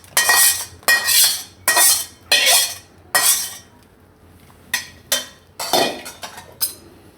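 Clinks and scrapes of a spoon working sugar syrup into roasted flour in a pan for Gujarati adadiya, in clustered bursts with short pauses, close and fairly loud.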